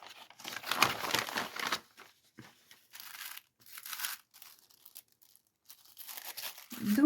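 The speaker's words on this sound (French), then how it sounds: "j'ai juste décacheté en fait l'enveloppe et on va ouvrir ensemble." Paper envelope being opened by hand, with close, dry bursts of tearing and crinkling that come in short clusters separated by quiet gaps.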